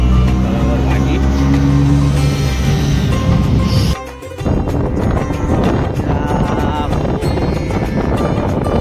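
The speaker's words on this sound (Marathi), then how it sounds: "बसलो मस्त रिक्षामध्ये." An auto-rickshaw's engine drones and rattles steadily from inside the cabin on a ride, cutting out briefly midway before the rumbling road noise returns.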